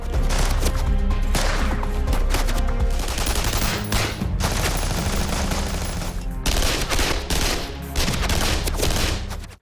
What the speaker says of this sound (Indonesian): aksi baku tembak pun kembali terjadi